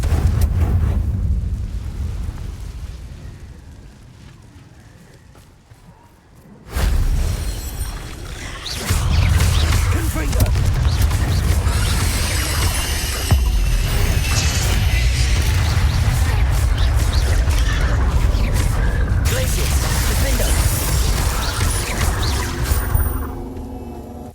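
Fiery Confringo spell blasts in Hogwarts Legacy erupt as a loud, sustained roar of explosions, with a heavy boom kicking in after a quieter stretch and rumbling debris continuing almost to the end.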